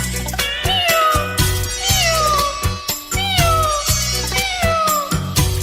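A singer imitates a cat's meow within an old song, repeated drawn-out meowing phrases over steady musical accompaniment, loud and close throughout.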